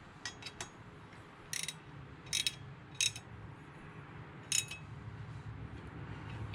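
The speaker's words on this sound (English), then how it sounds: "I just used two 15mm wrenches for that. One on each nut." Two 15mm wrenches tightening nuts during a catch can install on a Jeep JLT: sharp metallic ratchet-like clicks in brief clusters over a steady low background hum, close and fairly clear.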